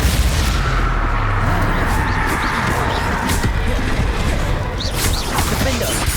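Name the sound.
Confringo and Crucio spell effects in Hogwarts Legacy video game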